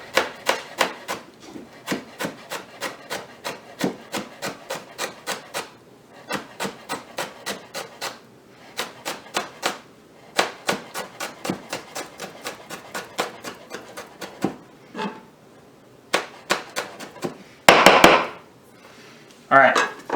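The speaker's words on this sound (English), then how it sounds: "So I'm going to take the little bit of jalapeno, cut it into a very fine julienne" A knife taps rapidly and evenly on a cutting board, finely julienning and then mincing jalapeno pepper, with bursts of quick chops separated by short pauses and a louder scrape near the end.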